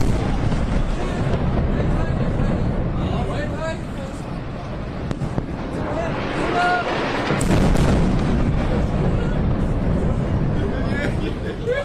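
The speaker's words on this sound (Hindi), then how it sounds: "इस वीडियो में बम के धमाकों की आवाज सुनाई दे रही है" Heavy, rumbling bomb blasts echo over the city during an Israeli strike on Beirut airport, with booming impacts and rolling noise over a continuous roar and wind buffeting, with voices faintly present.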